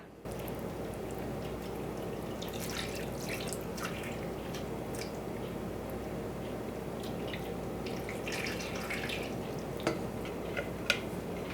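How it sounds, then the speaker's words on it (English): Chicken stock mixed with maple syrup is poured over a brined turkey in a pan, producing faint close trickling and dripping with scattered small splashes over a quiet steady background hiss, and no voices. "So now for our chicken stock and maple syrup, give it a good stir and then just pour it on top."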